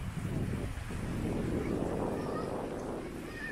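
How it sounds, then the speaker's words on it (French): Wind gusts blowing steadily past the microphone at a seaside spot with palm trees, a fountain and a large statue, a low broadband rumble that stays loud and unbroken throughout. "Un peu de vent, hein, comme vous l'entendez."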